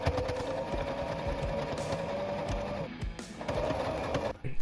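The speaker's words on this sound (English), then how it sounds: "Then sew up where you've pinned." A sewing machine stitching a hem on clothing runs in a steady, fast mechanical whir with a rapid needle rhythm, stopping briefly and starting again.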